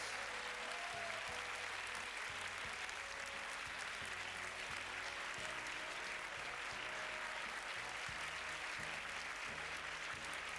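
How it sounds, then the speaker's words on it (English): Applause from a school show audience after a thank-you to the choir organisers, a continuous wash of clapping heard faintly and at a distance, with low rhythmic background sounds underneath. "A round of applause."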